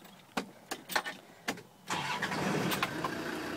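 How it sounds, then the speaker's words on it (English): A 2006 Land Rover Defender 110 with the TD5 2.5-litre diesel engine is started: several sharp clicks and a short crank, then the engine catches and settles into a steady, close idle. "It starts right up."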